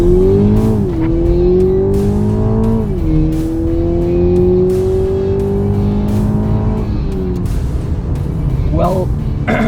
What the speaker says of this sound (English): Let's see how it goes with a 4-cylinder BMW engine.